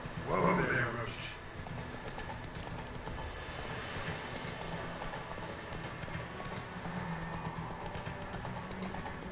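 Roach, the horse in The Witcher 3, trots with steady clip-clopping hooves under ongoing game sound, while a voice calls out over the start.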